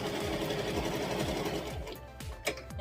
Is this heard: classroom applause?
no